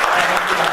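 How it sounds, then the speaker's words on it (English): A conference audience at an IEEE session claps in a dense, loud burst of applause from a crowd, brief and continuous. "after hearing the sound of the claps, that made my life successful till today"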